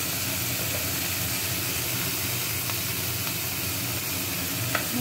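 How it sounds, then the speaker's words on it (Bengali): Broccoli frying in a covered pan gives a steady, continuous sizzle with an even hiss that holds at the same level throughout, close by and with no voices. "চাপা দিয়ে ব্রোকলিগুলোকে ভাজিয়ে দিচ্ছি"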